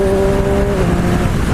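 Triumph Street Triple 765RS motorcycle with its stock exhaust, a steady loud engine drone with a brief higher tone early on, heard continuously for under two seconds.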